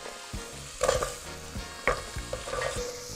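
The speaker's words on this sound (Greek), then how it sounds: "Ανακατεύω πάρα πολύ καλά" Sliced carrot rounds and onion stirred in a hot pan for a vegetable velouté soup, soft sizzling broken by a few sharp scraping strokes of a spoon, close and alone.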